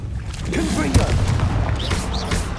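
A Confringo spell explodes in Hogwarts Legacy with a booming blast near the middle, amid combat noise and brief voice-like game sounds.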